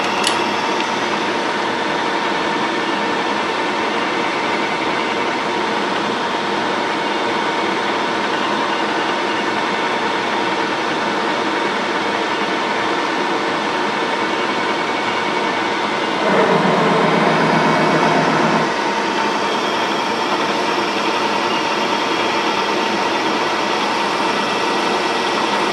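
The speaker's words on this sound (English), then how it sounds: "I'm going to take the tool exactly at a 1/2 inch and let it cut one more time" A machine tool takes a final cutting pass on metal, a loud steady grinding hum throughout that briefly swells into a harsher, denser burst before settling back.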